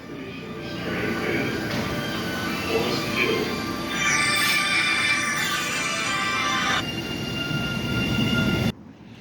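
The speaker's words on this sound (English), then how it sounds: "So that train just left out of here." An MBTA Orange Line subway train in Roxbury, Boston rumbles and rolls away from the station with a steady roar and high metallic squeal, loud throughout, then cuts off abruptly near the end.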